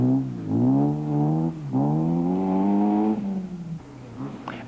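A Volkswagen Golf rally car driving hard, its gearbox under strain, engine climbing in pitch through a long rising whine, briefly dropping at a shift, then pulling up again before easing off; loud and near, no talk.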